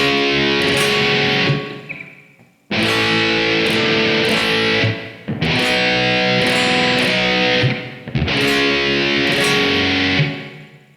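Heavily distorted electric guitar plays bar chords, loud and close, in four sustained chord bursts separated by short gaps, with no talking.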